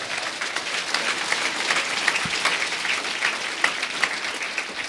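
Steady applause from a church congregation honouring Christ Jesus at a Quechua-language service, a dense, even patter of many hands sustained throughout at moderate level.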